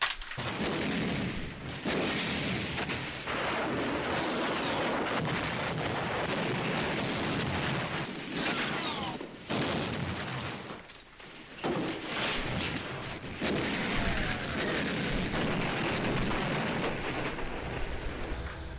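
Artillery barrage in a Dien Bien Phu war video game: continuous heavy rumbling booms and blasts layered into a dense, loud roar that rolls on with brief dips and swells.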